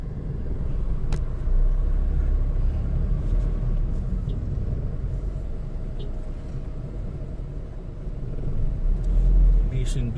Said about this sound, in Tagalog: busy ang lugar dito, masyadong maraming sasakyan